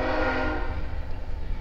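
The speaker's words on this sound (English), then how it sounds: "And there's a train coming." A train horn sounds loud and sustained for under two seconds, with heavy low rumble beneath it and no talk over it.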